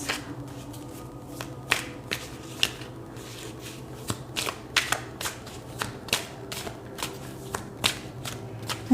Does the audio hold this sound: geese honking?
no